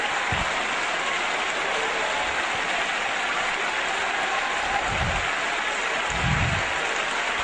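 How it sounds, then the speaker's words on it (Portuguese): A church congregation applauds during a Portuguese-language sermon. The clapping is dense and unbroken, a steady wash of sound that fills the whole stretch at even loudness, with occasional low thumps underneath. "Aplauda Ele."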